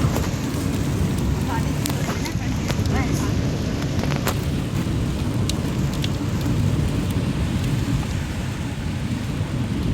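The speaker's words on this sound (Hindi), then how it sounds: "बारिश तेज हो गई" Heavy rain pours steadily around a parked car on a drive between Derabassi and Jagatpur, a dense, constant roar with scattered sharp drip clicks on top and a faint low rumble beneath.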